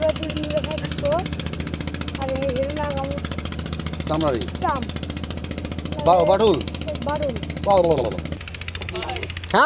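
An engine-powered passenger river boat chugs on the Jamuna near Sirajganj, its rapid, even engine pulse steady throughout while people talk over it.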